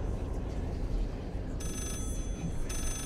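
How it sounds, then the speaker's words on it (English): A telephone rings in the Layers of Fear horror game, with repeated high bell bursts starting partway through and breaking off briefly before resuming over a dense, steady background rumble. "Phone's ringing."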